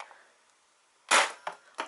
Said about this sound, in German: Und ich schieße mal hier so auf den Tisch.